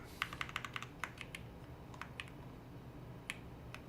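Typing on a computer keyboard, quick irregular runs of light key clicks close by, with a pause before a few last taps.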